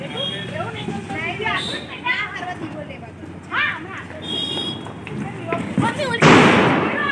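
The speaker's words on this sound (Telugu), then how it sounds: "ఇక్కడ అందరూ కూడా నైట్ 10 o'clock అలా ఈ పటాకులు అనేది కొట్టడం స్టార్ట్ చేస్తారు" Firecrackers bursting at night during Deepavali celebrations in Vadodara, mostly distant pops under continuous close talking, with one louder, nearer burst near the end.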